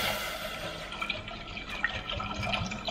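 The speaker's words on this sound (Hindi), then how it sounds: "इसके अंदर हम पानी डालना है" Water poured into a cooking pot set on a lit stove for boiling chana dal, a steady close splashing trickle with small drips running throughout, fairly quiet.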